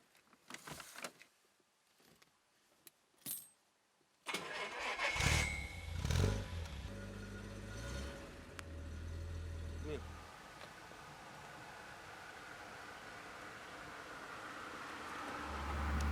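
A 1968 Jaguar 420 has its engine cranked and started after a few clicks and knocks, then settles into a steady, low running hum close by, with a faint voice near the start.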